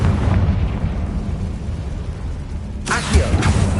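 Fiery magical blast from the Confringo spell in Hogwarts Legacy: a sudden crackling burst near the end, following a stretch of rumbling combat ambience, close and fairly loud.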